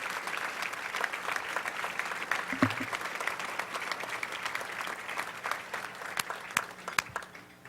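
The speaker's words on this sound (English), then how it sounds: "let's give them a round of applause" An awards-ceremony audience applauds nominees from the Indianapolis Fire Department, a steady wash of many hands clapping at moderate distance, sustained for several seconds.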